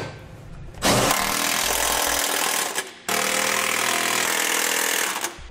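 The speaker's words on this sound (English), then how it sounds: "Now we'll tighten down our hardware." An impact or power tool drives bolts on a Draw-Tite Max-Frame trailer hitch receiver for a 2018 Dodge: two loud, sustained buzzing bursts, the first about two seconds long, the second about two and a half, separated by a brief pause.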